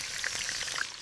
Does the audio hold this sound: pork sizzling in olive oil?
yes